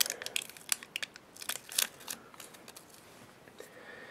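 Parchment paper is peeled slowly off the glued face of a deer hair popper fly, giving quiet, close crinkling and tearing crackles in irregular bursts, fading toward the end, with no voices.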